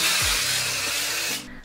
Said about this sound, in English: This is my favorite tanning spray for my face.